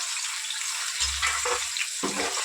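A paste of green chilies, mint, coriander and tomato fries in oil for chicken biryani, giving a steady close hiss with a few brief bursts of louder sizzling.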